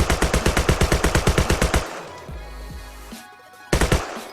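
Rapid automatic gunfire from the video game Sword With Sauce: a fast, even burst of loud shots, a pause with low rumbling and game noise, then another burst starting near the end.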